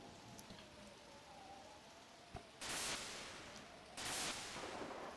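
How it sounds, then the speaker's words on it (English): Steady hiss of rain in the video game Pokemon Mystery Dungeon: Explorers of Sky pours throughout, with two louder bursts of heavier downpour swelling in, plus a faint tone and a brief thump. "It's raining again."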